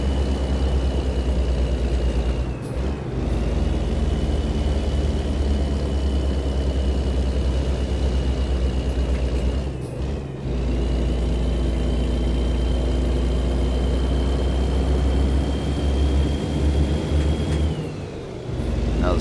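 A heavy truck's engine in American Truck Simulator drones steadily and loudly while pulling a 116,000 lb lift-truck load up a steep grade, with brief dips around gear shifts and a constant low rumble throughout.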